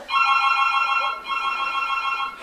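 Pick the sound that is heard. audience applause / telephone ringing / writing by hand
telephone ringing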